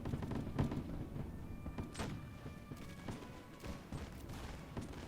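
Musketeers of the 60th fire at will in a Napoleonic battle game, a ragged run of sharp shots and thuds cracking at irregular intervals over a steady battlefield rumble, with no clear voices.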